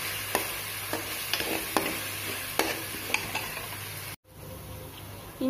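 Ginger and garlic sizzle steadily while being stirred in a pan on low heat, with frequent spoon scrapes and taps against the pan over a continuous frying hiss, briefly cutting out near the end.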